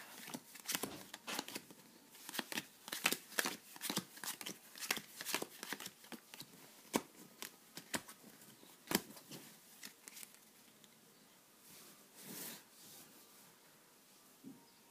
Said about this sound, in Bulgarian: И отново раздаваме картите.